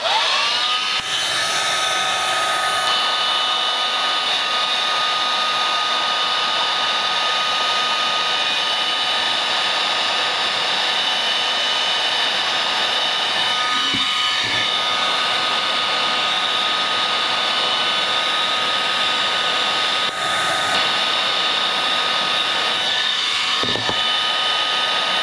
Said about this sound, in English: I'm going to warm that up a little bit with the heat gun